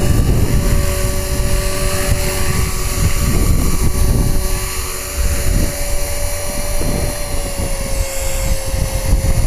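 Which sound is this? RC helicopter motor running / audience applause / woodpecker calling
RC helicopter motor running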